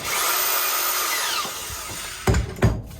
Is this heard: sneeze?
no